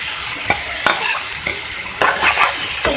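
Eggplant and tomatoes frying in a pan for baingan bharta, a loud steady sizzle punctuated by repeated spatula knocks and scrapes as the mixture is stirred, close up with no voices.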